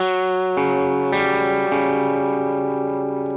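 Sustained electric guitar notes from a song, with heavy distortion and chorus-like effects, changing pitch a few times and ringing steadily without a break.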